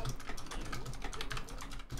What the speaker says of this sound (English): Sorry, keyboard loud.